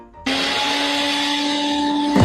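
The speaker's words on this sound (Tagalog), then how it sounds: "May blender eh." A household blender kicks on abruptly after a moment of quiet and whirs loudly with a steady high motor whine, close by, then cuts off in a falling pitch right at the end.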